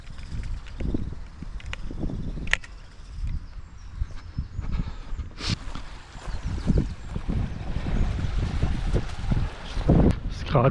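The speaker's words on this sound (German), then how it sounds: "Gerade hier eine richtige Böe, eigentlich kannst du es vergessen hier." Strong wind buffets the microphone outdoors in rumbling, uneven gusts, growing rougher toward the end, with a few sharp clicks and knocks, while flying a remote-control dragonfly toy.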